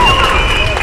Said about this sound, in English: hear that crowd roar